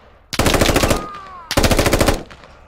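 Gunfire in the video game Squad rattles in two loud, sustained automatic bursts of about a second each, separated by a brief pause, close and dominant with no talk over them.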